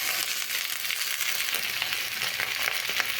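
Chopped okra goes into a pan of browned onions, giving a steady, moderately quiet sizzle with small crackles throughout and no talking.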